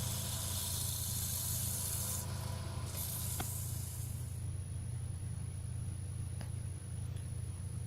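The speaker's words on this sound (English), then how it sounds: "Just sanding off there with the grain, but mainly on the acrylic" Steady, quiet rubbing of sandpaper by hand across wood and acrylic with the grain, a soft continuous scratchy hiss over a low background hum, with a few faint clicks.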